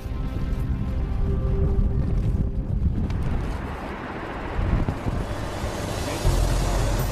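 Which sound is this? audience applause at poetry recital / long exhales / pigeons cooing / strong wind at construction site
strong wind at construction site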